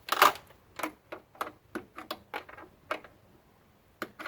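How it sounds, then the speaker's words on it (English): Bolt on a Subaru GL wagon (Loyale) being tightened by hand with a regular 12mm wrench during a lift kit install: a dozen or so sharp, close metallic clicks and ticks in an uneven rhythm, with no talking. "I'm just going to get it done with a regular 12mm wrench."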